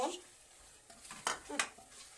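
Onions sizzle in a pan as a utensil scrapes and stirs, several brief scraping strokes over a steady frying hiss, close by.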